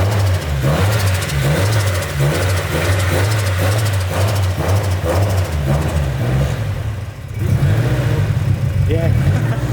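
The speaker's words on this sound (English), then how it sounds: "Just rev the fucking bollocks out of it." A Holden Commodore RB30 engine is revved up and held at a loud, steady roar, then dips briefly before climbing again, close up, with voices talking over it.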